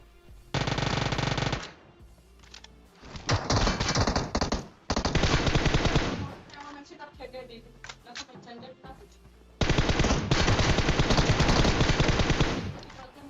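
Automatic weapon fire in the mobile battle royale game PUBG Mobile, rapid loud bursts of gunshots in several long volleys separated by short pauses, with a voice talking over the gameplay.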